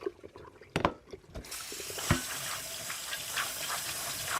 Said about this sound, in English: So we're going to go ahead and get these dumped and rinsed.